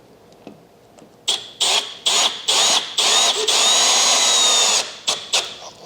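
A power drill drives screws into a handmade barn wood dining table, close and loud: several short whirring bursts, then one long sustained run, then a few more quick bursts, with no talking.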